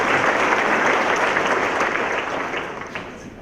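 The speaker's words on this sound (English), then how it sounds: "Please give another round of applause to everyone who's been at the podium this morning." Audience applause at a morning opening session, honoring the speakers who were at the podium: dense sustained clapping from a large crowd, fairly close, slowly fading toward the end.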